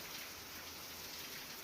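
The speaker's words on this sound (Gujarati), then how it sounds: "જામનગરના લાલપુરમાં માત્ર 2 કલાકમાં ધોધમાર વરસાદ પડ્યો છે" A heavy downpour pelts down in Lalpur, Jamnagar, a dense, even roar of rain striking surfaces, steady and fairly faint throughout the short stretch.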